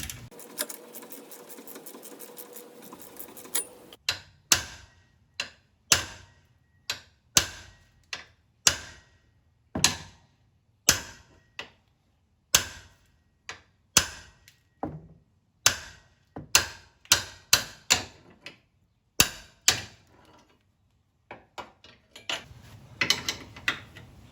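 A 3/8-inch drive ratchet with a 15mm socket and a box wrench on the handle backs the rear track bar bolt out of a 1997 Jeep TJ, giving a close, steady series of about twenty sharp ratcheting clicks.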